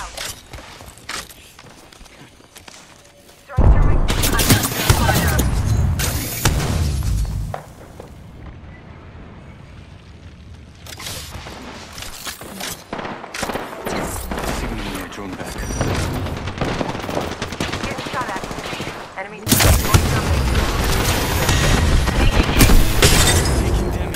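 Gunfire in the Apex Legends video game comes in loud, sharp bursts and rapid volleys, broken by quieter stretches of footsteps and mechanical clicks.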